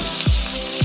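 Tomatoes fry in a hot pan for a home-cooked misua dish, a brief loud sizzle with two soft stirring swishes over a steady hiss.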